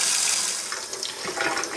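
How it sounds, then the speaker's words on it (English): Cold water tap running in a kitchen, a steady close rush of water pouring from the faucet with a bright hiss throughout the short stretch. "I just turn on the cold water tap and I let it run for a bit"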